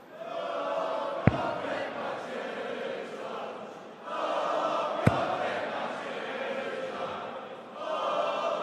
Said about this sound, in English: I applaud the audience for getting his name into that chant.